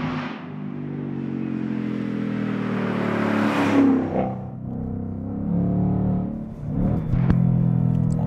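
A 2018 Ford Mustang GT with MagneRide suspension accelerating through turns on a track, a loud sustained engine drone rising in pitch, easing off around mid-clip, then climbing again, heard alone.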